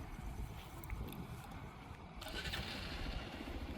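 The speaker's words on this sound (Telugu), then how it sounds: "2 బైక్స్ ఇప్పుడు ఆన్ చేసి" A motorcycle engine starts at night near the Pargi windmills, with a low rumble that rises into a steady idle outdoors and no talking.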